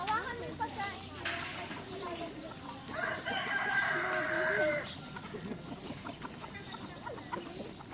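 A Rhode Island Red rooster crows loudly nearby while hens cluck around it, with people talking throughout.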